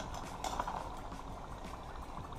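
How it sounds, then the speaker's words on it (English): A soft, steady sizzle and bubbling of green plantains frying in hot oil, fairly quiet and continuous, with no voices. "frying of the plantains"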